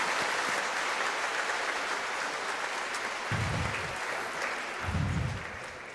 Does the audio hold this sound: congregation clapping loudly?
yes